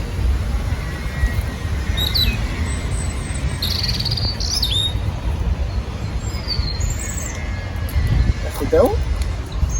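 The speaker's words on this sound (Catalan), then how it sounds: "una persona amb un reclam criant els ocells i els ocells li contesten" Birds in a Barcelona park answering a person's bird call device, with several thin high chirps and whistles scattered over a steady bed of insect-like buzzing and low rumble.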